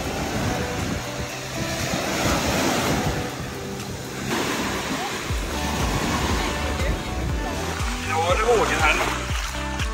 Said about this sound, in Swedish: Ja, det är vågor idag.